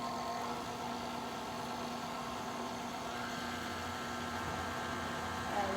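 An electric mixer whirs steadily as it creams butter and sugar, a continuous motor drone that rises in pitch partway through when the speed is turned up.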